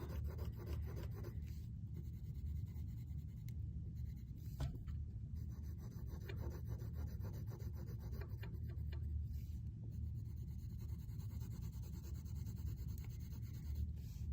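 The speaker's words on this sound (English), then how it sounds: "all I am doing is pressing softer with my pencil to make a lighter tone" Colored pencil lightly shading on paper, a soft continuous scratchy rasp with steady back-and-forth strokes, close and quiet, with no voices.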